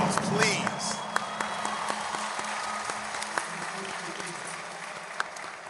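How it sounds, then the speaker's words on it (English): Graduates at a large university commencement ceremony applaud, a broad wash of crowd clapping with scattered cheers and a few sharp individual claps standing out, distant voices mixed in. "graduates, give yourselves a round of applause, please."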